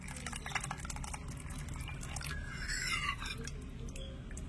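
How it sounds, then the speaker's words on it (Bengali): Hot water pours quietly into a small bowl, a faint, close liquid trickle with soft splashy texture that swells briefly near the middle. "বাটির মধ্যে নিয়ে নিচ্ছি 1 কাপ গরম জল"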